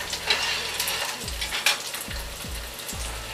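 A steady sizzling crackle of an egg frying in a hot pan, with a few soft scraping or tapping sounds repeating underneath.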